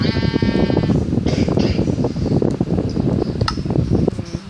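Sheep bleating in the game Minecraft, a harmonic bleat at the start followed by further short bleats over a busy bed of game noise and clatter, loud and continuous.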